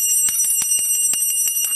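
A teacher's handheld bell rung rapidly, a bright continuous jangle of steady metallic strikes with a high sustained ring, loud and close throughout.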